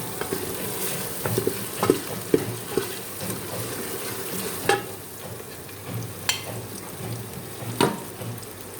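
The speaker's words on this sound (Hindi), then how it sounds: "अदरक लहसुन के पेस्ट को थोड़ी देर भूनेंगे।" Ginger garlic paste fries in a pan for a mutton dish, a steady close sizzle with scattered pops and occasional stirring scrapes, without any talk.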